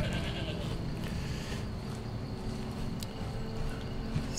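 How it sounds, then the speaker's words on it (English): Goats bleat in the video game Skyrim amid a dense, steady wash of outdoor ambience, their calls blending into the continuous background noise. "Ah, more silly goats."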